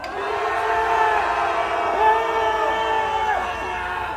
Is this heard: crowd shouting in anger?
yes